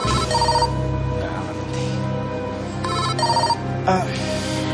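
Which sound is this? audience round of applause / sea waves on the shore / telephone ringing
telephone ringing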